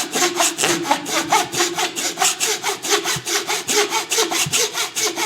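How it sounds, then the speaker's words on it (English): Fret saw cutting through wood at a guitar neck, a steady back-and-forth rhythm of rasping strokes, close and fairly loud, with no talk. "Now I use a fret saw for this, and I'm going to go right up against that."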